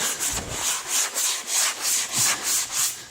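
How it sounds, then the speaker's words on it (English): Sandpaper rubbing back and forth over a rough, fuzzy primed surface, with about nine even rhythmic strokes, close and loud with no talk. "So we're going to go ahead and sand that off a little bit."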